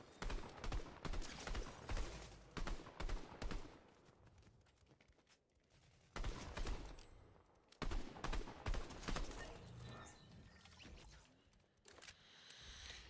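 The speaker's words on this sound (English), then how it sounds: "where's this guy shooting me from?" Gunfire in a video game shooter, with rapid bursts of automatic fire in repeated volleys, loud then dropping to quieter stretches, then resuming in another run of sharp shots.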